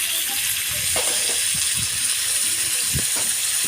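Tomatoes, green chillies and peas frying in a pan with whole coriander seeds and dried red chillies give a loud, constant close-up sizzle and steamy hiss, with a few soft knocks and stirring sounds underneath.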